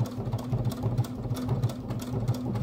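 A sewing machine stitching fabric runs with a steady, close mechanical whir and rapid rhythmic knocking throughout, with no voices.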